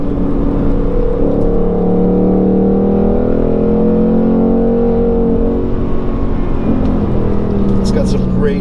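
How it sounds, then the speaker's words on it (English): V8 car engine revving hard, heard from inside the car as a loud sustained drone whose pitch rises and falls with the revs under continuous talk. "you do need to rev this thing out, and it loves to rev"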